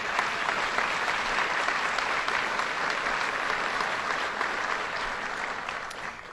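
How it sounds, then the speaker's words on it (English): A large audience at a budget address in Rochester gives a long round of applause for Bob Duffy, a steady roar of many clapping hands that holds evenly throughout and fades only slightly at the end. "Let's give him a round of applause"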